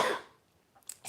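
A single sharp sneeze bursts out close and fairly loud at the start, then fades into near silence, followed by a few faint short sounds.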